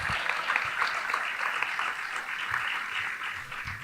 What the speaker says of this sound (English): Can we have a round of applause for Master Joshua,